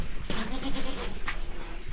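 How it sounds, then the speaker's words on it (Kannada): A goat on a sheep and goat farm gives a short, fairly faint bleat that fades out, with an outdoor farm background and no talking. "ಇವೆಲ್ಲ ಮೇಕೆ"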